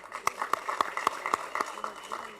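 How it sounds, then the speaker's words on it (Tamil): An audience at the Kuttram Thavir film audio and trailer launch gives sparse applause: around a dozen sharp, separate claps spaced at a steady pace, fairly quiet, without talk. "நல்ல பலத்த கரகோஷம்"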